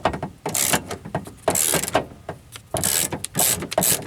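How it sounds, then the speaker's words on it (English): A 10mm ratchet undoes a bolt on a sticking door latch of a 2008 Subaru Outback, with rapid, close clicking in uneven bursts and pauses between strokes. "Got my 10mm ratchet here. Undo the right bolt on there."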